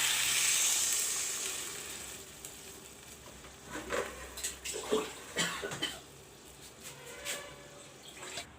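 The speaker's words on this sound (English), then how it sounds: "Put in the water." Water rushes and hisses into a hot pan of vegetable curry with potato, cauliflower and brinjal, a loud splashing pour at first that settles into sizzling, bubbling and occasional stirring clatters nearby.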